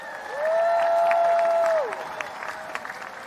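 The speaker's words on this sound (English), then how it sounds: "give all of the mothers a warm," A graduation audience at Howard University applauds the mothers in a warm, steady round of clapping that swells after a moment, holds for over a second, then tapers off, with a long sustained tone running through the middle.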